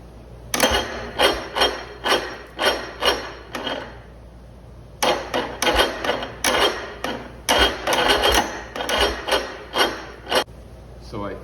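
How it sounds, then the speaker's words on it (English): A 1970 Chrysler 70hp outboard motor cranks fast on its starter, a close, rhythmic rasping churn of about two strokes per second that runs, pauses briefly, then resumes for a longer stretch. "now it's cranking fast"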